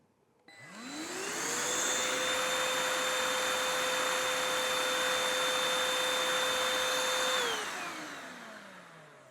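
A BISSELL Pet Hair Eraser cordless hand vacuum motor spins up to a steady high-pitched whine, runs evenly for several seconds, then winds down as it switches off.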